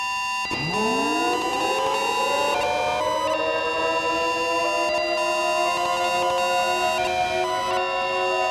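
A loud emergency alert siren winds up from a low growl into a sustained wailing tone that holds steady, heard alone.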